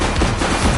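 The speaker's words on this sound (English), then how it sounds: "Shots fired!" A quick burst of gunshots in the police game The Precinct, a loud, dense rattle of fire lasting under a second with no pause.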